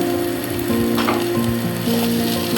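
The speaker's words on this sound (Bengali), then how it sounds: "পোলাওয়ের চাউল সহ সবজিগুলো একটু ভাজা ভাজা করে নেব" Pulao rice and vegetables sizzle loudly in a pan with a rattling, grinding clatter as they are stirred, close and continuous.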